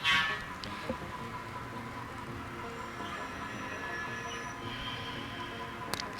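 An HO scale model train runs along a layout's staging track, producing a low continuous mechanical hum and rumble with faint rail clicks and a sharp click near the end, with no voices.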